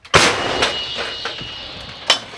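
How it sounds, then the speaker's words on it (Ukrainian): A loud, close artillery cannon blast booms and rolls into a long echoing tail, with a second sharp report near the end. "Гармата! Постріл!"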